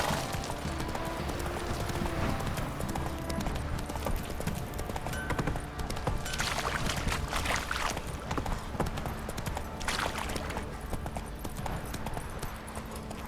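Roach, the horse in The Witcher 3 video game, gallops in a fast, continuous clip-clop of hooves that holds loud and steady throughout.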